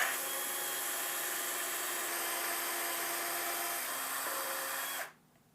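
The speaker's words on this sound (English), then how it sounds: "There we go, drilling the holes." A power drill drilling installation holes for a Tapo C320WS security camera whines steadily at close range for about five seconds, its pitch shifting slightly under load, then cuts off abruptly.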